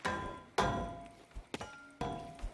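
A giant hammer in the building game Scrap Mechanic strikes four times in quick, uneven succession. Each blow is a hard thunk with a short ringing decay.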